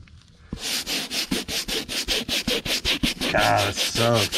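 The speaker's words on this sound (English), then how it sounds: "start scrubbing" Cleaner-soaked car interior of a Chevrolet Traverse being scrubbed by hand, a close, loud rhythmic back-and-forth rubbing with steady regular strokes that carries on throughout, with a brief low murmur near the end.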